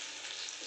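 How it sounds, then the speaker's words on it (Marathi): Drumstick (shevga) masala frying in hot oil, a soft, steady sizzle with a fine crackle, heard briefly and at low level with no talk. "आपली शेवगा फ्राय मसाला किती छान फ्राय होते, डीप फ्राय"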